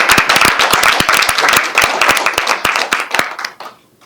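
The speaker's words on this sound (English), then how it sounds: "round of applause" Council members and attendees at a Madison Heights city council meeting break into a round of applause, loud close clapping with sharp individual hand claps that tapers off after about three and a half seconds.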